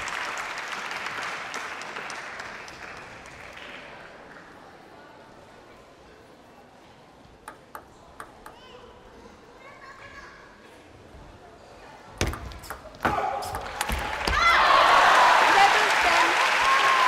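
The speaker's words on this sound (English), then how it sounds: "Applauded by the audience in Incheon" An audience in Incheon applauds at a women's singles table tennis quarterfinal at the 2013 Korea Open. After a quiet stretch with a few scattered claps, full applause swells and holds near the end, heard under commentary.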